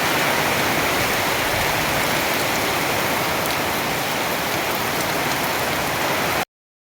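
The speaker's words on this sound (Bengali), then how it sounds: "অনেক জোর বৃষ্টি হইতেছে" Heavy rain pours down in a steady, dense hiss that stays loud and unbroken, then cuts off abruptly near the end.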